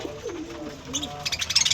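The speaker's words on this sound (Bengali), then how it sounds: "এই যে আমার পাখিগুলো" Pet pigeons busy feeding give a soft, low cooing close by, followed by a quick run of brighter chirps and fluttery pecking sounds toward the end.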